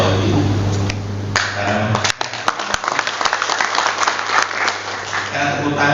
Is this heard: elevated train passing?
no